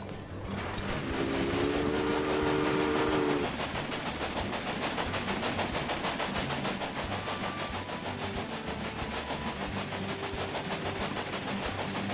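A locomotive in the Railway Empire game rolls along the rails with a steady, loud rhythmic clatter and rumble, and a short horn-like tone sounds near the start.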